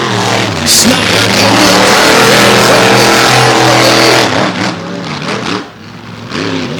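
Race cars accelerating during an All Star Championship race, loud roaring engines with rising and falling pitch as they rev through the gears, close and continuous, briefly easing before surging again.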